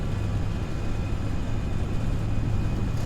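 Lufthansa CityLine FSLabs A319 rolling down the runway for takeoff at Hamburg in Prepar3D, a steady loud low engine roar and rumble, constant and close throughout.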